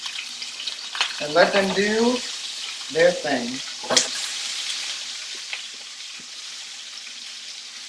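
Turkey meatballs frying in a hot pan give a steady sizzle that runs through the whole stretch, heard under a few spoken phrases and brief stirring noises.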